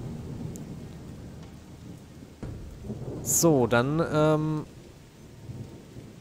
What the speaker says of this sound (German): Es regnet in der Wüste.